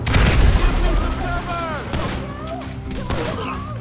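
A grenade blast and gunfire in the Grand Theft Auto 5 video game: a heavy boom opens, then scattered shots and rattling fire with shouted voices mixed in.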